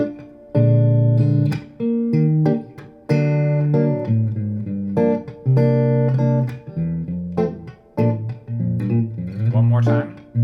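Guitar chords follow a song's chord progression, a series of separate strummed chords with brief gaps between changes, played close and fairly loud with no speech over them.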